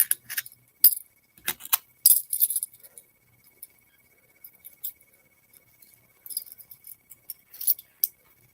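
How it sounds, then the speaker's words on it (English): A handful of small keys jangle and clink in quick bursts as they are gathered up and put away, followed by quieter scattered rattles and a last few jingles. "there's a whole thing of little keys"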